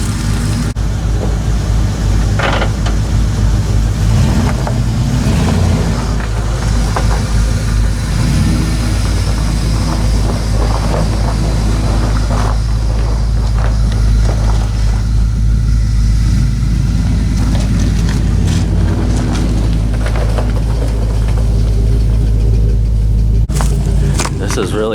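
An old 5-speed four-wheel-drive truck with about 140,000 miles idles close by in icy outdoor conditions, holding a steady low rumble throughout while a person talks over it intermittently.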